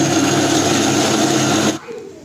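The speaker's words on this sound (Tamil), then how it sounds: "இப்போ அதே இதில் வந்து தக்காளி வந்து அரைச்சி எடுத்துகிட்டு வந்துடலாம்." A kitchen mixer grinder blending tomatoes runs with a loud, steady motor whir and a churning buzz for under two seconds, then cuts off abruptly and leaves a quiet room.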